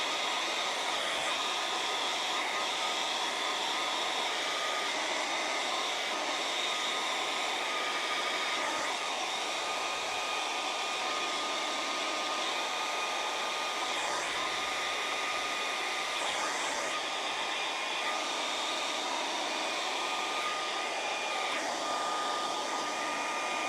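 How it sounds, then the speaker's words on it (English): A hair dryer blows hot air steadily onto a Bioenno battery, a constant close-up whooshing roar with an electric whine that holds level throughout, with no talking. "I'm going to go get the hairdryer on this"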